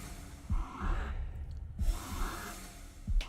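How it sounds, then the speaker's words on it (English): Heavy, rasping breaths from the killer in the 2022 Texas Chainsaw Massacre trailer, three slow inhale-exhale cycles close and loud, each opening with a sharp catch and ending in a hiss, with brief quiet gaps between. "So are they're using his breathing as that noise."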